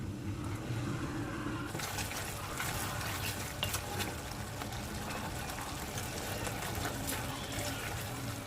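Water poured into a half cup with a tablespoon of cornstarch to make a slurry; a steady, close liquid splash and trickle runs throughout at moderate level, starting quieter then filling out.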